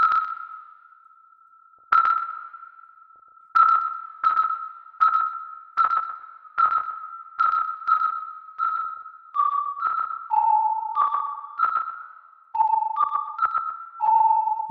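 A gritty synthesizer patch plays a sequence of short plucked, sonar-like pinging tones, some overlapping and shifting in pitch, each with a slight click at its attack, clear and alone with no voices.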